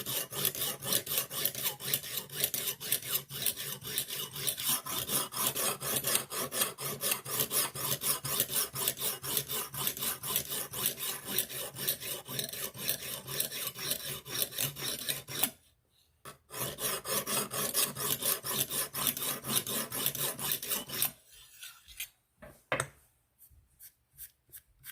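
A Rough Ryder knife blade is sharpened with a Lansky guided system, the stone rasping in quick, steady back-and-forth strokes close up, pausing briefly before resuming and then slowing to a few final scrapes.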